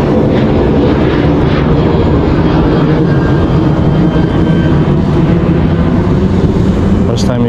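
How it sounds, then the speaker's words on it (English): Airplane passing overhead during topwater bonito fishing, a loud steady engine drone filling the whole stretch with wind and water noise. "The plane just ruined it"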